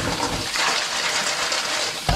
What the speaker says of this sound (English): Gonna give these a nice old rinse off with some fresh water.